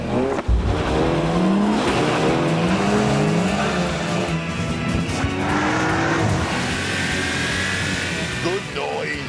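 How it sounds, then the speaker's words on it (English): A BMW M135 and a VW Golf GTI launch at once in a straight-line drag race, roaring engines and squealing tires, the combined din sustained and loud as they accelerate flat out. "I then line them up for a simple straight-line drag race."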